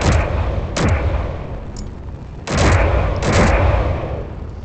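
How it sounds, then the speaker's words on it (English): Heavy artillery guns on a Matsumoto class battleship fire in a video game, several loud booming shots in an uneven sequence, each blast followed by a rolling rumble that fades out. "we are now closing in, as you can hear with the artillery guns"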